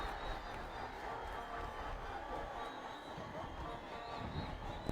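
A large crowd at a Nepal vs UAE international cricket match roars and chants from grass banks around the ground, a continuous broadband din heard faint and distant, with no clear breaks.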